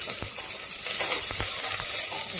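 Spices sizzle and crackle in hot oil with cumin in a pressure cooker, a dense bright hiss with a few sharp pops, close up and without talk.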